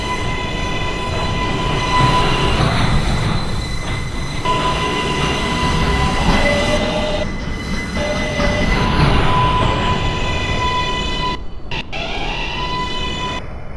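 A Queens-bound Z skip-stop subway train in New York runs between Alabama Avenue and Van Siclen Avenue, its loud, steady rumble and clatter laced with high, sustained wheel squeals throughout, with no voices.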